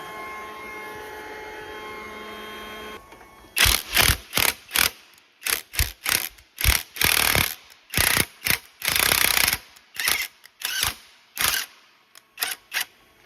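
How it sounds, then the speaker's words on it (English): Bursts of quick mechanical clicking, like a ratchet, as threads on rusty hardware are run back and forth during a front transfer case and differential replacement on a 2009-2017 Chevy Traverse AWD. A quiet hum comes first, then about a dozen short, loud bursts with no talk. "I like to try to go back and forth with those a little bit, just run the threads over to get the rust off."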